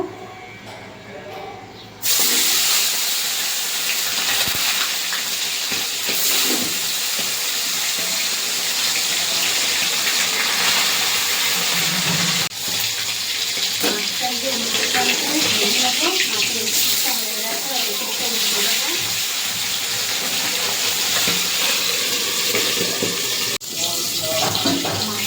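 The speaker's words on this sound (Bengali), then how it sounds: "তেলটা গরম হয়ে গেছে, এবার মাছটা ভেজে নেব।" Tilapia fish frying in hot oil gives a steady, loud, broadband hiss that starts abruptly and then runs without a break, with a few faint clicks and pops underneath.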